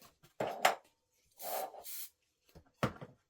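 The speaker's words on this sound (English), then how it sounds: "So I'm going to go ahead and spray these." Several short hissing bursts from an aerosol spray can misting freestanding quilt block pumpkin pieces, separated by brief pauses, fairly close and moderately loud with no talking.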